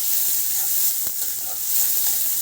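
Onions frying in a pan for a pangas fish curry, giving a loud, steady, dense hiss of sizzling oil with barely any change and no voices.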